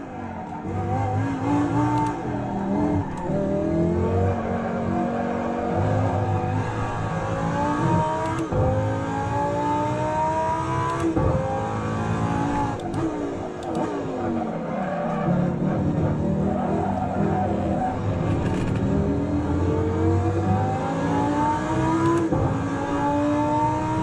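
A Lamborghini Huracan ST engine in a racing video game revs hard through repeated rising and falling gear sweeps, with tire squeal under braking, loud and continuous for the whole stretch with no one talking.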